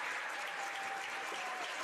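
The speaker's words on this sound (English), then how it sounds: "And Owen Doherty leaves to the applause of a standing crowd here at the Spencer Sports Center." A standing crowd at a high school basketball game in a sports center applauds in a dense, sustained wash of clapping that stays even from start to finish.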